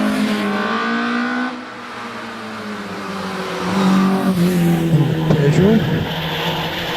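Peugeot hillclimb race car at Doune, an engine rising and falling through gear changes, revving hard and growing louder as it passes, while a commentator talks over it.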